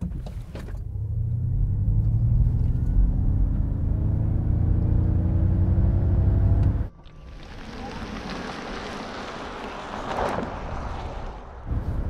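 A 2021 Ford Mustang Mach-E First Edition electric car launches hard, giving a loud, rising low rumble with climbing tonal whine for about seven seconds, then dropping to steady road and wind noise.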